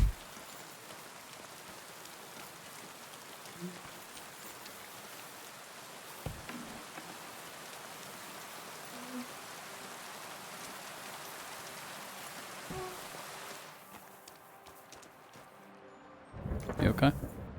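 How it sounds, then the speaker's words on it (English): Steady rain falls throughout in the video game Kingdom Come: Deliverance II, a soft continuous hiss with occasional louder thuds near the end. "Is the rain finally settling down?"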